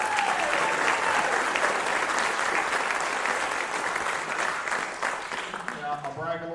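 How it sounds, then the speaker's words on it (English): Loud, sustained applause from a large audience at a college band concert, steady clapping filling the space for several seconds before tapering slightly. "Give them a round of applause."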